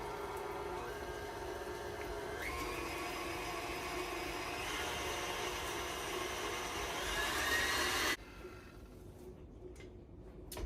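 A stand mixer fitted with a whisk attachment creams banana cake batter in a steady, continuous mechanical whir that shifts pitch a few times, then cuts to a quieter background near the end.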